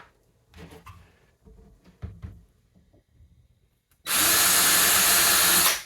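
A power drill starts up after a few seconds of quiet shop clatter and bores steadily and loudly into wood for pantry shelf face frames until the end.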